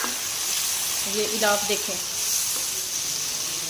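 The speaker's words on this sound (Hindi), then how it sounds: "इसको हमने हल्का सा फ्राई कर लेना है। और साथ ही हमारे पास 3 अदद टमाटर हैं, ये डाल देंगे।" Tomatoes tipped into a pan and fried with chicken-stuffed tinda, a steady hiss and sizzle running throughout with a brief stirring clatter, while a person speaks briefly over it.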